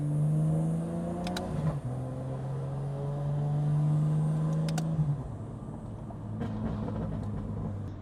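A BMW G80 M3 rolls gently through a residential neighborhood, its engine note steady and rising slightly with a few smooth gear changes, a continuous close-up rumble with no talking.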